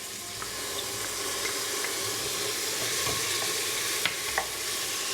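Turmeric, cumin powder and ginger garlic paste fry in a pan for Trini doubles, giving a steady, close, even sizzle throughout with a few faint clicks of a stirring utensil.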